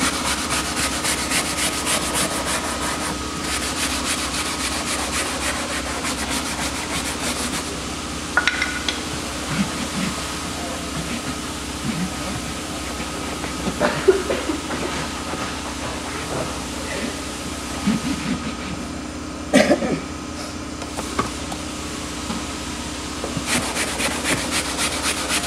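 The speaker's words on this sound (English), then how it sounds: "Sometimes with the grooves you're going to have to use a brush" A brush scrubs the grooves of a foot pad with steady, continuous rubbing strokes close to the mic, broken now and then by a few sharper scrapes and knocks.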